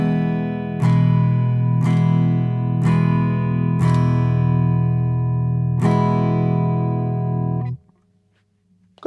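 A rhythm exercise of crotchets and minims in 4/4 time played on a sustained electronic keyboard tone: repeated chord attacks in a steady pulse, some notes held longer, ending abruptly before a brief quiet tail.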